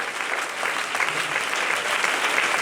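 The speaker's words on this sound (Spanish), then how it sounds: "A quien que lo crea, denle un aplauso fuerte al Señor Jesucristo" A church congregation applauding loudly for Jesus Christ, a dense, steady wash of many hands clapping that fills the whole moment.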